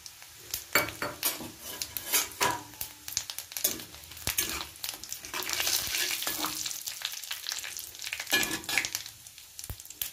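Cumin seeds, dried red chillies and bay leaf hit a little hot refined oil in a pan and sizzle up loudly, crackling and spitting, with clinks of a spoon against the pot, no voices.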